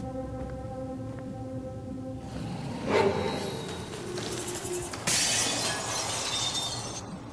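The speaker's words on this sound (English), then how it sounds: "This is like shattering glass and some kind of creature." Glass shatters in a sudden crash amid a tense sci-fi horror game ambience in Moons Of Madness, followed by a second burst of hissing, scraping creature noise, moderately loud over a low droning hum.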